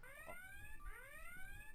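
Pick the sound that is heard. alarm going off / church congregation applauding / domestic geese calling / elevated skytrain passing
alarm going off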